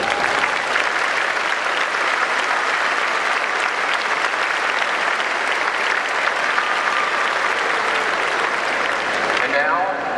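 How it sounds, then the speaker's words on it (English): Sustained audience applause at a university spring commencement ceremony for the College of Business and College of Health, Education and Professional Studies, a steady dense wash of clapping from a large crowd lasting throughout. "Would all of these individuals stand and please accept our applause for your service this afternoon."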